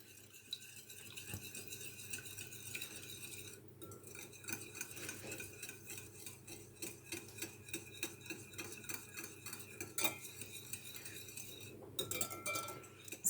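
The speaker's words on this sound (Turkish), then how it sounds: "Şimdi bu üç malzemeyi güzelce bir karıştırayım." A spoon stirs a yogurt, milk and oil mixture in a bowl, giving a continuous run of soft scraping and clinking strokes at close range with no talk.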